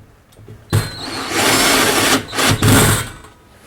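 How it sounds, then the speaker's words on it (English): A power driver sinks a screw to mount a recessed light converter pendant bracket, a loud whirring burst starting abruptly, running steadily, then briefly pausing before a final surge and stopping, with no talk. "Installing the first screw."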